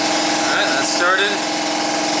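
Engine of a 2008 Ford Focus running just after starting, during motor and transmission mount replacement: a steady, loud, close idle drone with a faint higher whine riding on top, continuous throughout.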